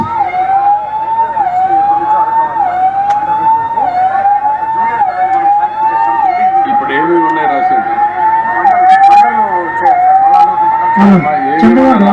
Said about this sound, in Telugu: కొంచెం క్లియర్ చేసి అంబులెన్స్ పంపేయండి